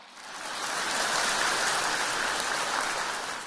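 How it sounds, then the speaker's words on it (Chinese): Sustained applause from an audience at a Buddhist dharma talk in Macau, a dense, even wash of clapping that swells in and holds steady for a few seconds. "鼓掌"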